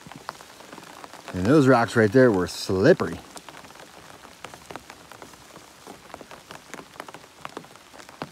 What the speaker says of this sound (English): It's like the sun's out and it's raining on me.